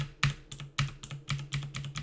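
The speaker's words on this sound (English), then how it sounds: "Like, it's just a clicky keyboard." Crisp clicks from a clicky computer keyboard come in quick, irregular bursts of keystrokes, close and distinct with no talking over them.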